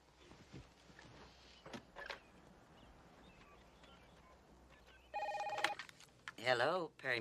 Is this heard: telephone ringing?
yes